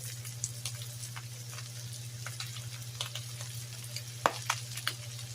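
Onions sautéing in a pan for pork giniling give off a soft, steady sizzle, with a low hum underneath and occasional faint clinks and scrapes of stirring.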